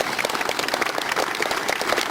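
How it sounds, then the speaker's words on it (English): Audience applause at a plaque unveiling for Pete Ham, a steady mass of clapping hands from a gathered crowd, sustained and even throughout without any talk on top. "that I think is worth a round of applause"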